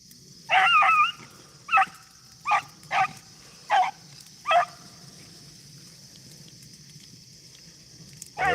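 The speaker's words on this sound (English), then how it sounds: "She hears these dogs barking." Beagle hounds bark in a rabbit hunt field, a string of sharp yelps and bays in uneven bursts, moderately distant, over a steady high insect-like hiss, then a quiet stretch before one last bark.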